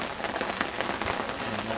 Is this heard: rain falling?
yes